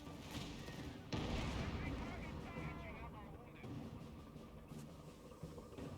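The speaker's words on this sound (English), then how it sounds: "Enemy artillery! Take cover!" Enemy artillery fire in the video game Company of Heroes 3, a dense, continuous rumble of blasts and gunfire starting with a heavy onset, dipping and swelling, with voices talking over parts of the battle.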